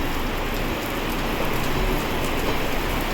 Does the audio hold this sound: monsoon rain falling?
yes